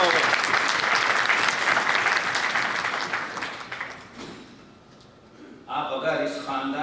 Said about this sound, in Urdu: تالیوں سے استقبال۔